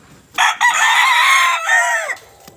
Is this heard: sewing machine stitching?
no